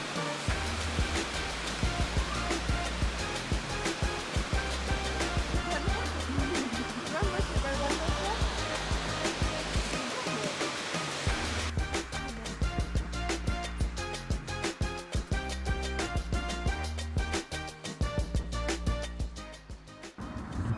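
Cascade de La Beaume waterfall heard as a steady, dense rush of falling water throughout, loud and broadband with no pauses.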